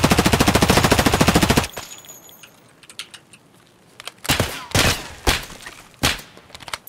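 Rifle fire in Escape from Tarkov: a rapid, loud automatic burst opens, then after a pause several separate single shots crack out at uneven intervals.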